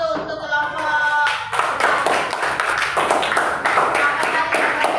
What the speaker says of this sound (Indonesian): Jadi tepuk tangan dulu untuk kelompok.